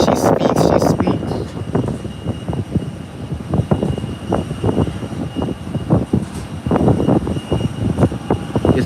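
Airplane engines roaring steadily at Howard Hamilton International Airport as the aircraft prepares for takeoff, a loud continuous drone that swells and dips, with bursts of wind or handling noise over it.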